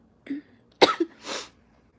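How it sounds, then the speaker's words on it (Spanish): A person coughs nearby in a few short, harsh bursts, ending with a breathy exhale, then falls quiet. "porque me agito y me empieza la tos"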